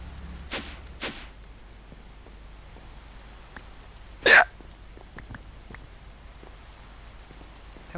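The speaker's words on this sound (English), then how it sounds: "That was a hiccup." A single sharp human hiccup rings out close and loud at mid-clip, preceded by two softer brief vocal clicks, over a quiet background with faint scattered ticks.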